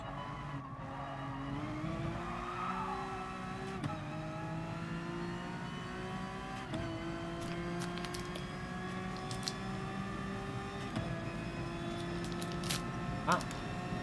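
Honda NSX race car in the GT Sport video game working through a corner combination, the engine rising and falling through shifts with brief tyre squeal, while someone talks over it.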